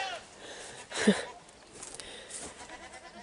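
Goats on a homestead give a short, faint bleat around the one-second mark, with a softer one later, over quiet outdoor background.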